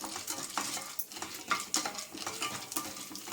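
Chana dal frying in a little oil in a pan, with a steady soft sizzle and repeated scraping and stirring clicks of a spoon against the pan, close and fairly loud, with no talking.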